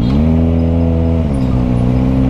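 Kawasaki ZX25R 250cc motorcycle engine revving during a city ride, a loud, steady high-pitched engine drone holding near constant, with a brief dip and shift in pitch midway, close and continuous with no talking.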